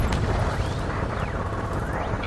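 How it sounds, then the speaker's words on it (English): Ace Combat 7: Skies Unknown combat over a city under martial law: a steady, dense rumble of gunfire, explosions and roaring jets, loud and continuous throughout with no clear individual shots standing out. "Gunfire and the roar of jets echoing through the streets."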